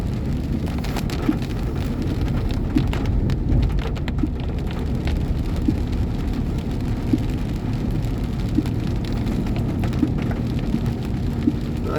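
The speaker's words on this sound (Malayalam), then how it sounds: "നല്ല മഴയുള്ള ദിവസമാണ്." Heavy monsoon rain pours steadily, a dense, loud, unbroken hiss of drops hitting surfaces with scattered sharper splats throughout.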